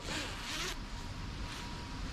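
A clothing zip on a reversible winter camping garment slides open or shut in one continuous rasping stroke, fairly close and alone, with a second quieter pull following.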